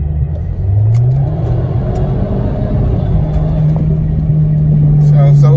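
An Audi car engine revving in valet mode as the gas pedal is pressed, a loud close drone that rises in pitch over the first second and then holds a sustained, rumbling high idle.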